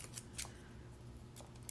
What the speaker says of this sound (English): Or what I'm gonna do is I'm just gonna cut